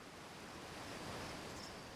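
A faint, continuous rush of falling water from behind a waterfall in the video game Outer Wilds hisses evenly, with no other sounds over it.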